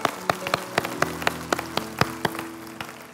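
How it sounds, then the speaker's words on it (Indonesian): A church congregation claps in praise, sharp irregular hand claps scattered across the room over a faint sustained musical hum, moderately loud with no voices. "Berikan tepuk tangan yang meriah buat Tuhan kita"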